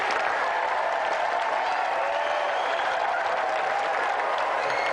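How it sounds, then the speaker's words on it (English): Studio audience on a TV game show applauds a contestant, a steady dense clapping that holds evenly for several seconds without voices over it. "Round of applause for Jack."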